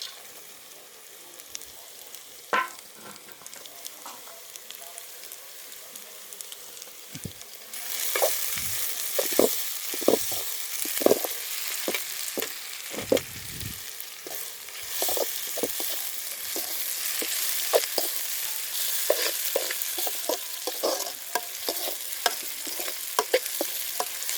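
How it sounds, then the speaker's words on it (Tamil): Crushed garlic and curry leaves sizzling in hot oil in a pot over a wood-fired stove, a quieter crackle that jumps louder midway, with repeated scraping stirs punctuating the steady hiss. "நெக்ஸ்ட் இடித்த பூண்டு கருவேப்பிலை போட்டுக்கலாம்"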